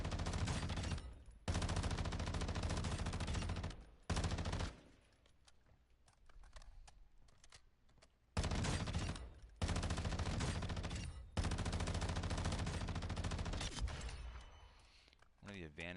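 A high rate of fire gun in the DMZ game mode, long sustained bursts of rapid automatic shots with short pauses between, loud and close, with a voice talking over and between the bursts.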